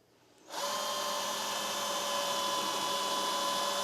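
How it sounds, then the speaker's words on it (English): A power drill whirs to life after a brief quiet moment and keeps grinding steadily at high speed through a wood floor in a VW Crafter van, close and loud, with no talking. "So we go through the wood, take you straight onto the floor."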